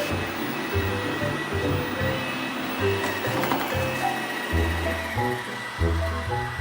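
A robot vacuum cleaner roams a floor picking up hair, its motor giving a steady loud whirring hum with shifting brush and wheel tones throughout.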